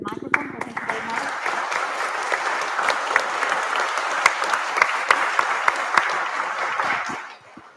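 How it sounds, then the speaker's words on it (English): Audience applause filling a conference hall at a psychiatry forum, a dense steady clapping that holds for several seconds before tapering off at the end, with a brief voice at the very start. "I would like to thank you by clapping"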